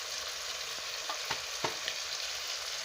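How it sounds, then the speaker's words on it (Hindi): Keema masala with red chili powder frying in a pan gives a steady, close, hissing sizzle, with a few faint scrapes and taps of stirring and no talk. "अच्छे से मसाला जो है वो फ्राई हो गया है"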